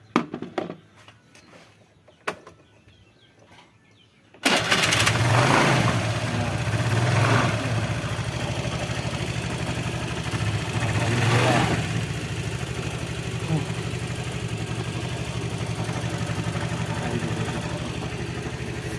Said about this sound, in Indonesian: sekarang kita coba ya, kita coba starter.